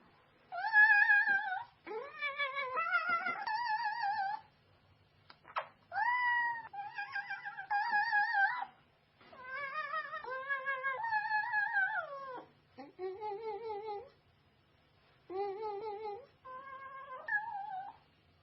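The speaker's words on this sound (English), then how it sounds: "A similar technique is used for a new form of artistic expression: cat yodeling." A cat caterwauls in long, drawn-out, pitch-sliding yowls, repeated in bursts with short pauses between, close and clear against a quiet background.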